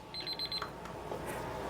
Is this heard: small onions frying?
no